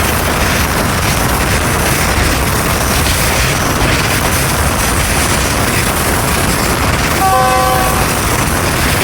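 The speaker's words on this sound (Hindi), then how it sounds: "90 डिग्री का कर्व और कालूवाल से पास थ्रू हो रही है ट्रेन" A railcar train passes through a sharp 90-degree curve near Kaluwal, a loud, continuous rumble of wheels and carriages that holds throughout, with a brief horn blast near the end.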